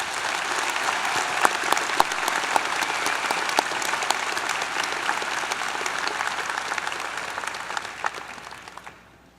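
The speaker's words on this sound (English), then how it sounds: "Please join me in applauding the efforts of our emeriti faculty" A large commencement audience applauds emeriti faculty at a university spring graduation ceremony, steady dense clapping that holds evenly before tapering off at the end.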